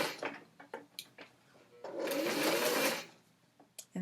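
Sewing machine straight-stitching at 2.5 mm length along a zip facing on a Greenstyle Sundance jacket: a few short clicks and bursts, then a steady whirring run of about one second, then more brief ticks, close by.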